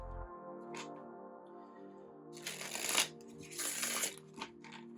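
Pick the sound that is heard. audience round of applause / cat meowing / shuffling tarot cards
shuffling tarot cards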